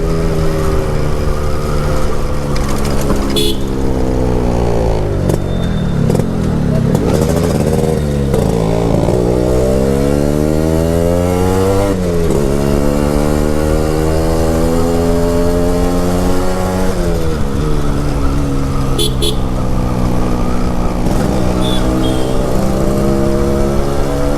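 A Yamaha RX Z two-stroke motorcycle engine revs loud and close throughout, its pitch repeatedly climbing and falling with each throttle blip and gear change, with no talk over it.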